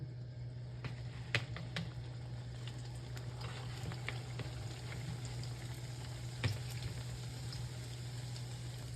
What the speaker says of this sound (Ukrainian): Коли олія нагрілась, починаємо смажити пиріжки.